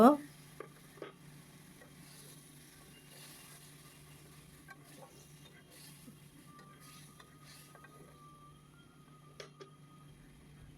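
Spices sizzle in a pan for rohu fish kofta curry while being stirred, a faint, steady hiss broken by a few light scrapes and clicks.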